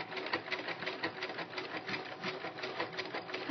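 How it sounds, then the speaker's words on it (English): A sewing machine runs a hemstitch with a wing needle, a fast, even mechanical chatter of stitches close by and steady for the whole stretch, with no talking. "So I'm going to begin sewing, lock my stitches in place"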